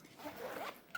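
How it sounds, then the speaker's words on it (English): A zipper is pulled along a fabric cue case, giving one soft, faint rasping run under a second, with a small click at the end. "it's catching on that fabric, so that's gonna catch that zipper"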